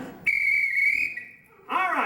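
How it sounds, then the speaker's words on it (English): A whistle blown during a juggling act gives one long, steady, shrill tone lasting well over a second, then a burst of noise and voices follows. "Let me hear that whistle, Wave."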